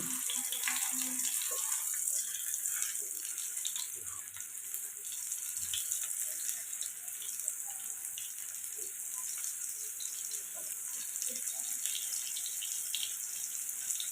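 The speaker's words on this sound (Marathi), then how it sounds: "आता हे मी पिठात चांगला पापलेट घळवून घेतलं आहे आता मी फ्राय करून घेते" Batter-coated pomfret fish fries in hot oil over a medium gas flame, making a continuous loud hiss and crackle, close by and with no talk.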